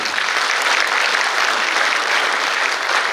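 A large audience applauds steadily at a Liberation Day commemoration ceremony honoring descendants of independence activists, a dense, even wash of clapping that holds loud and continuous throughout without voices.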